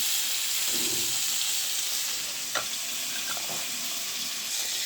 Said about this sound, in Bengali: এবার আমি টমেটোগুলো হালকা করে ভেজে নেব